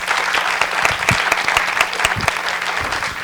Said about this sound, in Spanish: Pues entonces un aplauso a Luis.